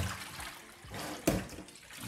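Salted water carrying cleaned fish drains and splashes into a kitchen sink, a short wet gush with a brief sharp splash midway and soft trickling around it.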